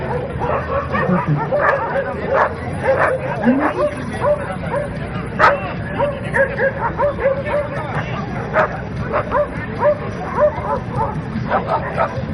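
Several East Siberian Laika dogs at a Laika breed show yip and bark in short repeated bursts, some with whimpering, over a steady background of crowd talk and nearby voices.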